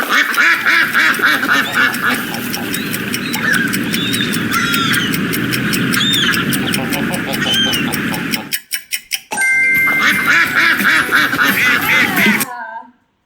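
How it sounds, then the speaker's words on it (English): Rapid, rhythmic quacking from a duck over a busy, noisy background, briefly dropping out before resuming until an abrupt stop. "The duck."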